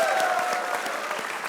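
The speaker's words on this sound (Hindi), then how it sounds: "मोहम्मद आमिर के लिए तालियां।" A studio audience at a Hindi comedy talk show applauds for Mohammad Amir, brisk, fairly loud clapping sustained through the moment, with a faint tonal sound beneath it at the start.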